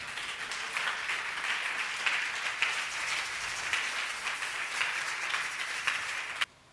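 A church congregation applauds steadily, a dense, even wash of many hands clapping throughout that cuts off abruptly at the end.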